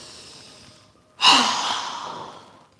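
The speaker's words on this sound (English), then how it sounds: "Exhaling with a very strong breath, letting all of the air out of our lungs." A person in yoga practice breathes out hard through a wide-open mouth, a single loud, forceful exhale that surges and then tapers away, preceded by a quieter breath, close and alone.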